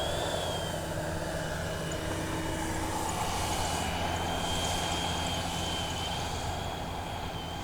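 An H-King Flycat V2 70mm EDF jet RC model flies overhead, its ducted fan giving a steady, continuous whooshing whine at moderate distance with no talk.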